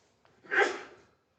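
A single sneeze from a person at a tabletop wargaming tournament, one short sharp burst rising and fading within a second, fairly close and alone.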